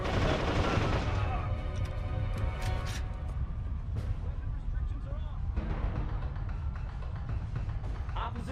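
Rapid gunfire from historical weapons in the shooter Darkest of Days, dense bursts and scattered shots crackling continuously, loud and near, mixed with a robotic voice speaking.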